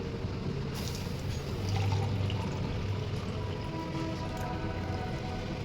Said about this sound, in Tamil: இப்போ இன்னும் 2 கிளாஸ் வந்து தண்ணி ஆட் பண்ணிக்கலாம்.